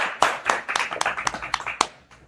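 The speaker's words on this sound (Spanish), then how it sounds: "Un aplauso también, por favor." A small audience claps in a short burst of distinct, fairly close handclaps that settles into a quieter, fading patter within about two seconds.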